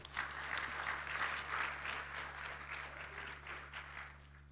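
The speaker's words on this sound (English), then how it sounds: "let's give a big round of applause" A crowd applauds for a few seconds at a conference opening ceremony, dense clapping that swells slightly then gradually thins, heard somewhat distant over a low hum.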